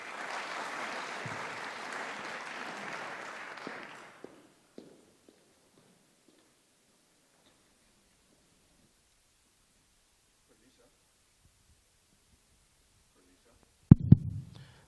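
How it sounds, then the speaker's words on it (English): An audience at a lecture hall event applauds the panelists, about four seconds of dense clapping that stops abruptly, then near silence with a few faint scuffs and a brief clunk at the end. "A round of applause to the panelists as we're about to get rolling."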